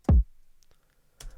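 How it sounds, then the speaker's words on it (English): A dry kick drum sample with no drive processing hits once, a single deep punchy thump with a quick decay, followed by quiet residue and a second, softer low hit near the end. "So the kick just sounds like this on its own."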